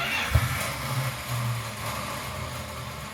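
A 1973 Plymouth Duster engine idles with a steady low rumble, one brief louder bump near the start, then settles into an even hum.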